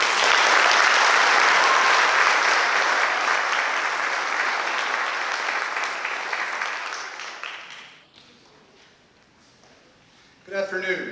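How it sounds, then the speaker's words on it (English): Applause from an audience at a high school senior awards ceremony: steady, dense clapping that lasts about eight seconds, fades out, and then a short fresh burst begins at the end. "Give him a round of applause"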